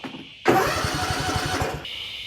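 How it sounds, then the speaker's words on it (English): A zero-turn mower engine cranks and catches after a short quiet lead-in, then runs with a loud, even chugging for over a second before the noise drops to a lighter hum. "Let me fire this here zero turn up"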